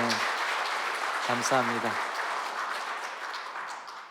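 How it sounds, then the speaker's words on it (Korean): The adults of a church congregation applaud in a Sunday morning worship service with steady, fairly soft clapping throughout. A voice briefly speaks over it, and the clapping gradually thins toward the end. "우리 어른들이 박수 한번 해주시면 감사하겠습니다"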